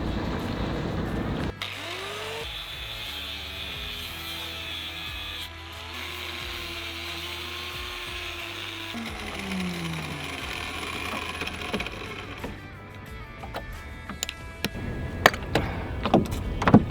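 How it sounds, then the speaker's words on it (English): A power grinder works on metal chain plates aboard a sailboat, giving a steady loud whine whose pitch sags and recovers as the disc bites, followed by clanking, scraping metal handling. "Let's get grinding."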